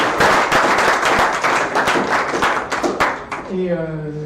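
A dense burst of audience applause fills an evening startup pitch event in a hall, steady and loud before fading out as a voice begins speaking at the end.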